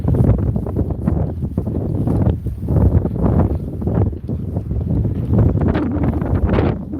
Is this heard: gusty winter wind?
yes